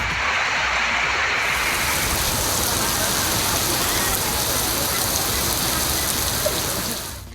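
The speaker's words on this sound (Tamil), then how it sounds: "மாலையில் இடி மின்னலுடன் கனமழை வெளுத்து வாங்கியது." Heavy evening rain pours down in Tamil Nadu as a dense, continuous hiss of drops hitting surfaces, steady and loud for the whole stretch with no voices.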